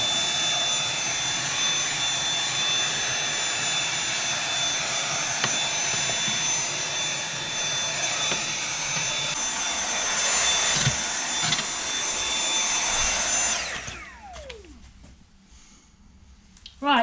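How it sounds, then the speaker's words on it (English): A vacuum cleaner hoovering inside a pottery kiln, a loud, steady whooshing roar with a high whine that runs continuously before the motor winds down near the end. "I'm just going to give it a quick hoover"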